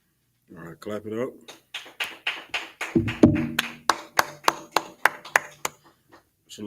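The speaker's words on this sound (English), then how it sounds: "All right, clap it up." An audience at an Israelite School of Universal and Practical Knowledge class claps in a steady series of sharp, evenly spaced claps, starting after a voice speaks and mixed with brief voices.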